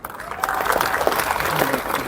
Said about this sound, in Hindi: आप लोग ताली बजा रहे हैं